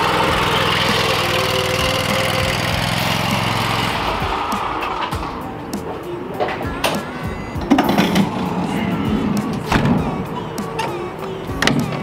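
Lawn mower engine running steadily and loudly for the first four seconds, then giving way to scattered clatter, knocks and rustling close by as lawn care work continues.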